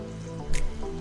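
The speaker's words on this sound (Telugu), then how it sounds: "ఇప్పుడు మిల్క్ వేసుకుందాం." Milk is poured into a bowl of powdered Bourbon biscuits, giving a brief close wet squish and drip lasting about a second, with a soft liquid trickle and no voices.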